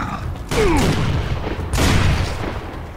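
Pistol fire in Gears of War: Ultimate Edition, two heavy, booming shots about a second apart, loud and close, with game ambience and a faint voice in between.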